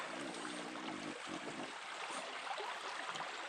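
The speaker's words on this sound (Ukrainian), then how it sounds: "красота, річка гірська." A mountain river rushes steadily nearby in a winter forest, a broad, unbroken wash of flowing water with no voices.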